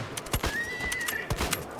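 A horse whinnies in a long rising-then-falling call in a Wild West video game, with hoof clatter and sharp game effects around it.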